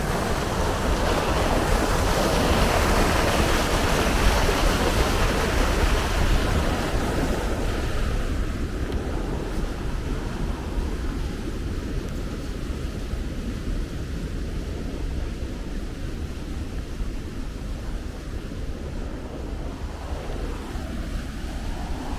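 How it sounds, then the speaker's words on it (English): Powerful water at Plitvice Upper Lakes rushes steadily as a broad, dense roar, loudest at first and easing slightly, continuous with no speech. "you can just hear the power of the water too."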